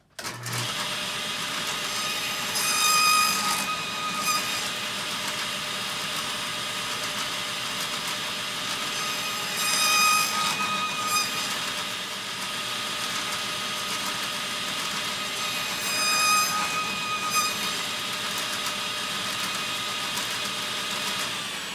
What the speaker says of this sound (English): that'll allow us to make repeatable kerfs all the way along the workpiece